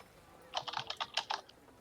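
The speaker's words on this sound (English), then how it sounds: "Rapidly typing." Fast typing on a computer keyboard, a quick close burst of a dozen or so crisp clicks lasting about a second, with no talk.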